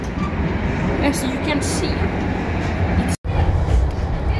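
Rumbling interior of a moving, nearly empty train on the way to Kårsta, a continuous low roar with rattling, a voice speaking briefly over it and a sudden short dropout near the end.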